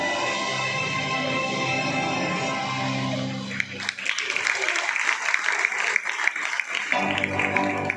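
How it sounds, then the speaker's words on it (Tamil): About 150 people clap together in a dense burst of applause that starts midway, rattling on steadily near and loud after a stretch of other sound. "150 பேருக்கும் ஒரே மாதிரி இருக்கும் கைத்தட்டல்"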